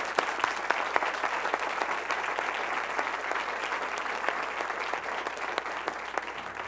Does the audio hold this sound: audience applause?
yes